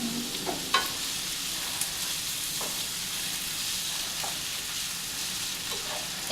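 Green beans fry and brown in a pan with a soft, even sizzle throughout, and a few light utensil taps and scrapes sound close by. Nobody talks.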